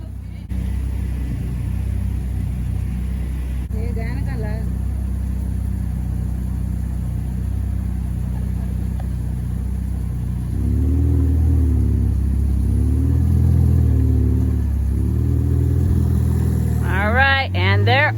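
A Ferrari sports car's engine rumbles loudly and steadily, then rises as it accelerates away, its pitch climbing in several revving steps. Excited voices cheer near the end.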